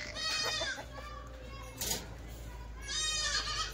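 Kathewadi goats bleat in a pen at a livestock sale, several overlapping wavering calls over a steady low hum, with people talking nearby.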